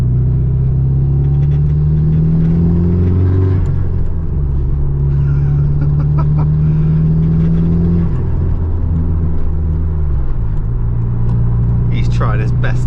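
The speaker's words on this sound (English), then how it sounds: "Why do you make an exhaust that sounds like that?" A loud, droning Nissan Sileighty SR engine and Japspeed exhaust heard from inside the car, its low buzzy tone rising and falling as the revs change.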